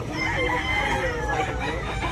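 Gamefowl rooster crowing close by, a loud continuous crow filling the whole stretch with no talk over it.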